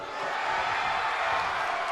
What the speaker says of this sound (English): But you can hear the fans. They're cheering for Nekomusume.